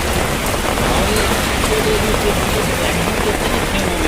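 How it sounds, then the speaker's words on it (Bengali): Heavy rain pours onto a street as a loud, unbroken roar of dense droplets that stays constant and close for the whole stretch. "কত জোরে বৃষ্টি নেমেছে"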